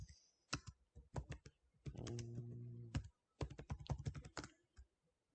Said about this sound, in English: Okay, so now let's try typing in a string.